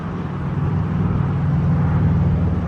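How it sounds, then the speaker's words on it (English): Thunder and wind roar outdoors in open, remote country, a loud, continuous low rumble with gusty swells and no distinct claps. "that thunder and wind sure is something"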